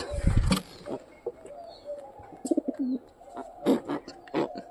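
A black Giribaz pigeon coos several times close by, soft throaty calls spread across a few seconds, with faint chirps from other birds and a short burst of noise at the start.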